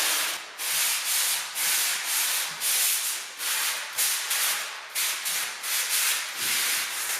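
Sandpaper is rubbed by hand along a drywall corner in repeated short back-and-forth strokes, a close, rhythmic scratchy hiss with brief pauses between passes.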